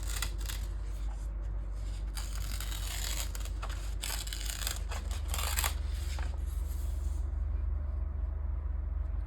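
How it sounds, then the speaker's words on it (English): Pink glitter paper being torn by hand, a close, crackly series of ripping bursts in uneven spurts over steady background hiss. "I'm gonna take this pink glitter and just kind of start tearing it"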